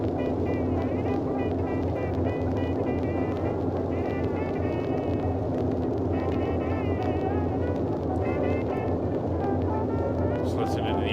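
Twin piston engines of a Boeing 247D airliner in a flight simulator game, droning loudly and steadily throughout in a constant, unbroken hum.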